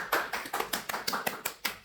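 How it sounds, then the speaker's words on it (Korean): A short burst of applause from a classroom of students, quick uneven claps about nine or ten strong peaks over two seconds, fairly close and moderately loud, no talking. "여러분 박수 한번 줄까요?"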